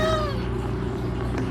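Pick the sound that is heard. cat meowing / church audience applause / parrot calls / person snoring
cat meowing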